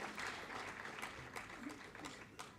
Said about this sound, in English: Please give a huge round of applause